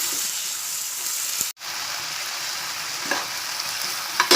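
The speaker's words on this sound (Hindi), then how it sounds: "और टमाटर को नरम होने तक प्याज के साथ पकाऊंगी" Tomatoes cooking down with softened onions in a pan give a steady, dense sizzle with a brief near-silent drop partway through and a few faint clicks of a utensil.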